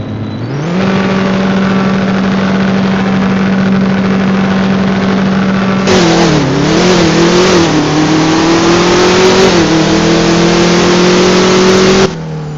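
A modified Chevy S10 engine drones loud and close, then climbs and revs hard through its gears with shifts audible as pitch drops, running on without talk.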